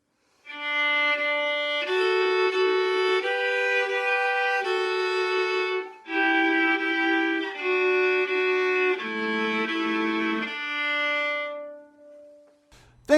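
Two bowed string instruments play sustained harmonized notes together, a series of long chords changing every second or so before fading out.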